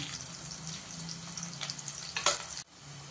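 Onion and a couple of curry leaves frying in a pan of hot oil, a steady close sizzle with a brief louder burst of crackle near the end before it dips, no talking.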